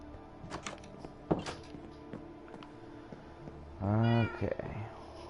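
A pet cat lets out one clear, fairly loud meow near the end. Before it come a few soft clicks and thumps in an otherwise quiet room, with no talking.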